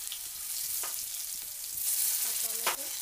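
Onion frying in mustard oil with cumin and turmeric in a hot wok gives a steady, close hiss of sizzling throughout, with a few clinks and scrapes of stirring near the end.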